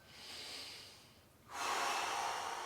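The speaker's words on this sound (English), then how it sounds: "3 big breaths." Big breaths taken during a stretching exercise: a long breath in, a short pause, then a louder, rushing breath out, close and with no talking.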